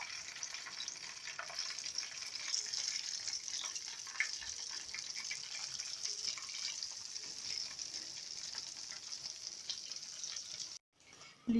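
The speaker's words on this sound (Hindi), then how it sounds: "अब हम बाकी के भी अपने ड्रम स्टिक्स को फ्राई कर लेते हैं।" Chicken drumsticks deep-frying KFC style in hot oil make a steady, even sizzle and bubbling that holds for about eleven seconds before a brief pause and a final clunk.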